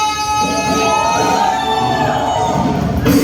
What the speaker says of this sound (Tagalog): Pwede mo ba tayong sumigaw?